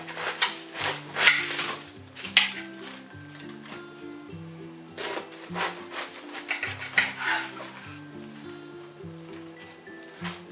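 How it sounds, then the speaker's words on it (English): A knife chops boiled chili pepper on a board in a steady series of light, crisp taps, with a soft rhythmic scraping between strokes and no talk over it. "I'm gonna go ahead and just chop this up"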